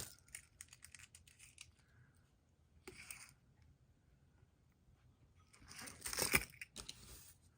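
Scissors snip through a sock being trimmed for a DIY Valentine's sock gnome, giving soft, quiet, close cutting clicks in a few short clusters, with a louder crunchy pass near the end.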